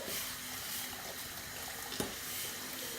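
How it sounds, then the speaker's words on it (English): Water is poured slowly into a pot for ugali, a faint continuous hissy trickle with a brief splash or knock partway through. "Put the water inside, but slow, eh?"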